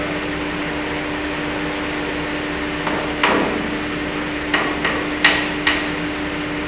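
Several sharp hammer strikes on a metal bucket pin ring out, irregularly spaced, over a constant mechanical hum in the background.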